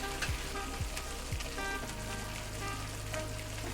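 Sliced capsicum sizzling in a hot pan during a beef fry: steady crackling hiss with a few soft stirring scrapes at the start, even and close, no voices.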